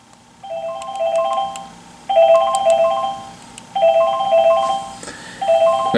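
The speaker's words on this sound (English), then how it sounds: "you can adjust the volume of the ringing" A phone rings with an electronic ringtone in short repeated melodic bursts, about four rings in six seconds, moderately loud and close, with no talking.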